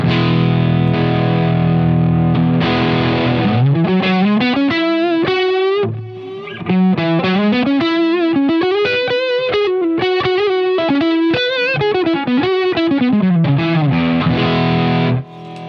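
Electric guitar played through a Nobels ODR-1 overdrive pedal with a distorted tone, sustained chords and a melodic run of notes, loud and close with no talking.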